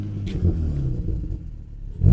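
Nissan 350Z engine rumbling at a steady, loud, close idle-to-rev level, then rising sharply in a rev at the end, with no talk.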